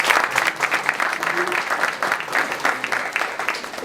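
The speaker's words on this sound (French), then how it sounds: "Vraiment, on applaudit très fort pour lui." An audience applauding warmly for a guest at a cultural incubator event, dense continuous clapping from many hands at moderate loudness, with a faint voice under it.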